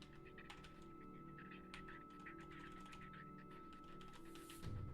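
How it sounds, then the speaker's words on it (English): Steady clicking of password keystrokes on a computer keyboard, close and fairly quiet over a constant background hum, with a brief louder thump near the end. "Just typing the password in."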